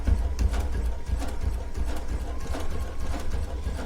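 A sewing machine stitches a rag quilt with the fringe kept to either side of the needle, a steady low mechanical whirr with faint rhythmic clatter running continuously and close.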